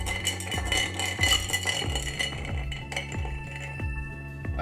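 Ice clinks and rattles against a glass as a Black Russian cocktail is stirred gently, a quiet, steady, close tinkling rhythm with no talk.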